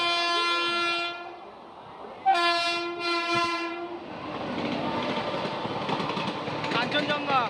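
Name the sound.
Kanchenjunga Express train passing through station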